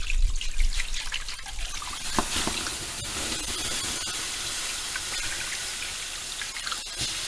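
Water is poured down an engine bay to wash spilled fuel off while fitting an adjustable fuel regulator to a Holden Commodore with an L67 engine: a continuous, close splashing trickle with uneven spatters, and no talk.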